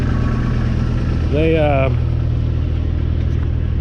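Small Kubota tractor engine running steadily at a job site during unloading, a constant low mechanical drone throughout with a brief voice speaking over it.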